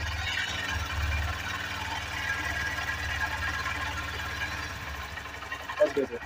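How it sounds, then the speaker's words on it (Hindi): Honda SP 125 BS6 motorcycle engine idling steadily nearby just after its automatic choke switches off, a continuous low throbbing hum with a faint rattly texture that stays even throughout, a brief bump near the end. "अब कुछ देर बाद ऑटोमेटिक चोक जो है वो ऑफ हो जाएगा, ठीक है, और आवाज़ देखना धीमे हो जाएगा ऑटोमेटिकली।"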